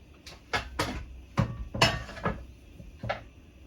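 Metal pots and pans are set down on a kitchen stove in a series of sharp clanks and knocks, several distinct hits spaced irregularly, close and clear with no talking.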